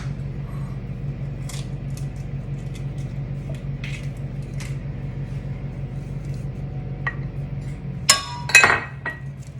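An egg cracks against a dish for gougère dough, giving a couple of sharp clinks and a crackle near the end after a low steady kitchen hum.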